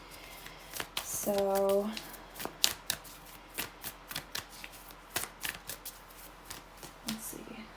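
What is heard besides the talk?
shuffling tarot cards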